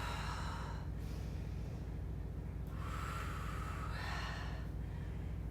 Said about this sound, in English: Let's do some breathing.